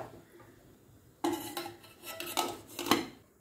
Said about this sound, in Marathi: आता याला आपण कुकरमध्ये लावूया